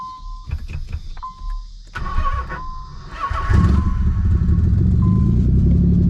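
A Nissan 300ZX with a weak battery, boosted by two jump packs, cranks and catches; the engine rises to a steady, loud idle after a few seconds of cranking and clicks nearby, with no talk.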